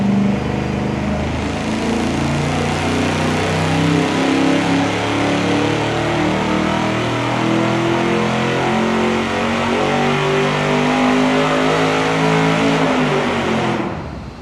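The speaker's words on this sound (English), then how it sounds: "we're gonna fire it up, warm it up to 130 degrees of water temp, and make our baseline full with dual exhaust and turbo mufflers" A dyno-mounted V8 engine fitted with dual exhaust and turbo mufflers runs at a steady idle and warm-up, a deep, loud, continuous burble with small rises in pitch before cutting off abruptly at the end.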